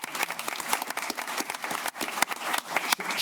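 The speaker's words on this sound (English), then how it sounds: "if we can give her a round of applause" An audience at a Dearborn Heights city council meeting applauds Nicole Hefty, with a brisk, steady round of clapping from many hands at moderate volume and no talk over it.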